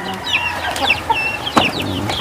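Chickens and gamecock roosters bred for cockfighting cluck and squawk close by in a farmyard, a busy overlapping run of sharp calls with a louder squawk near the end.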